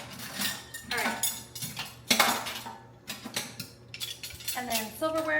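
Metal silverware clinks and clatters while being washed among dishes in a sink, a busy run of bright, irregular chinks and scrapes with running water and short quiet gaps, close and moderately loud.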